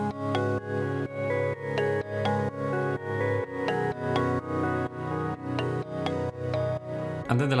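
Several synth lead parts layered in an electronic track, sustained harmonic tones with rhythmic plucky accents over chords filling the lower mids, steady repeating phrases for about seven seconds, loud and upfront with no talking.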